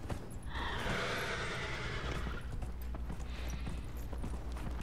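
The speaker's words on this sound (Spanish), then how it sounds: "El caballo bueno. Caballo de bonanza." A horse in Dragon Age: Inquisition, with a loud whinny near the start, then steady clip-clop hoofbeats continuing throughout, fairly close and alone.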